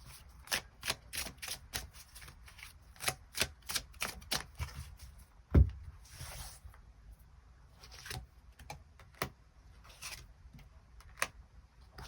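Tarot cards shuffled and drawn, a run of quick crisp riffles and paper slaps close by, then a sharp tap and scattered softer card flicks, quiet with no talk.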